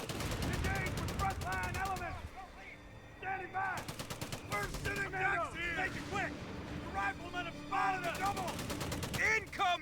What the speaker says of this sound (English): Artillery's firing on us again.